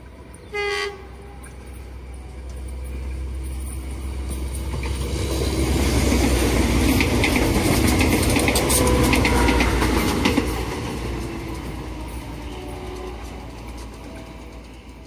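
The Pandalungan passenger train from Jakarta Gambir to Surabaya Pasar Turi rumbles past in Indonesia with a swelling roar and rhythmic wheel clatter, after a brief horn toot at the start, then fades away.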